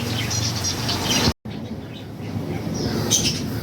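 Many birds in a pet bird shop chirp and tweet nearby in short bursts over a low room murmur, with a brief silent gap partway through.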